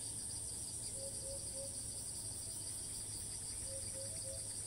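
Cicadas in Thai trees keep up a steady, high, shrill buzz that runs unbroken the whole time, fairly loud and close, with faint chirps drifting in the background.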